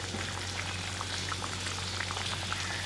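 Katla fish curry with slit green chillies simmers in a pan, a steady close bubbling and sizzling that runs continuously without pause.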